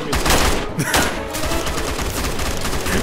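Rapid gunfire in the video game Unturned rattles on in a dense, loud burst of overlapping shots, with a few sharper cracks near the start before settling into a continuous roar.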